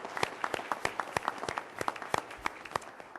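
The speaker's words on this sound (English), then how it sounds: "if we can give you a big round of applause" A small audience at a full board meeting applauds with a steady patter of individual claps, moderately close in a room, without voices on top.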